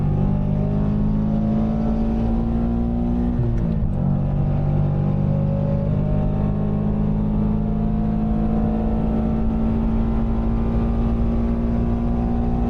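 A Subaru BRZ track car accelerates on a Formula 1 race circuit during a racing school session, its engine droning loud and close from inside with a steady rising tone, a brief dip near the four-second mark, then a sustained pull.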